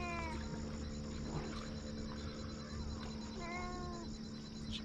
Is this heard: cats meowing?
yes